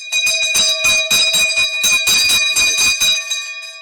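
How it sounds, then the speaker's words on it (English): A hand bell rung quickly and repeatedly, close and loud, its bright metallic clangs overlapping into a continuous ringing for about three seconds before stopping abruptly. "I am not experienced in bell wielding"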